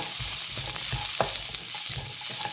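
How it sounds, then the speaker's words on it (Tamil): Grated coconut sautés in a pan for a curry paste, with a steady sizzle broken by repeated rhythmic scraping stir strokes, close and fairly loud. "அந்த தேங்காயில் உள்ள எண்ணெய் பதம் போகிற மாதிரி நல்லா வதக்கி எடுத்துங்க"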